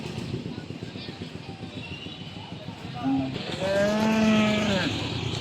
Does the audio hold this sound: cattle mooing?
yes